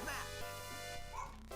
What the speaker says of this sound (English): Set me dogs off, that is.